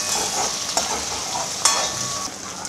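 Steady crackling sizzle of onions frying in a pan, with a couple of brief clinks from stirring.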